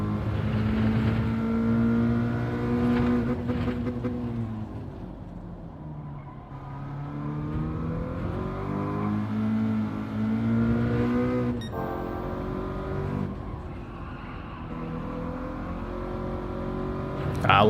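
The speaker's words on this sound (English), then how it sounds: "So I need to rev it out a bit more, I think." A Toyota 86 or Subaru BRZ race car engine in Gran Turismo 7 at Tsukuba drones and revs continuously, its pitch rising and falling through gear changes, with someone talking over it.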